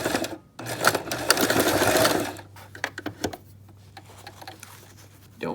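A sewing machine stitches fabric pieces of a DIY tissue box cover, running loud and steady for about two seconds, then falling to quieter clicks and handling noises.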